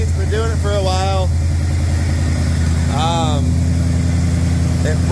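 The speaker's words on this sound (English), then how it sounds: "sounds like metal on metal to me. It's been doing it for a while." A Ford SVT truck engine runs at a steady, loud idle with a continuous low drone and a faint metallic undertone, while a voice speaks over it in two short bursts.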